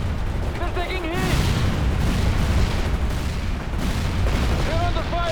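Artillery fire in the 2007 video game World in Conflict booms and rumbles in heavy, overlapping bursts, with radio-style voices speaking over the barrage at the start and end.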